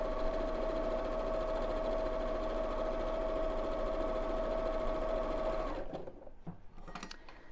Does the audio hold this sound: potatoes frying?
no